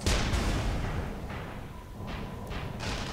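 Grenade explosion in the video game Tribes Ascend, a heavy boom at the start that rumbles and fades, followed by a few duller thuds, moderately loud amid background game noise.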